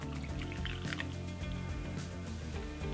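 Water pours into a bowl of vegan salami dough mix with gluten, cornstarch, salt and onion powder, a soft steady trickle and drip lasting a few seconds over constant background music.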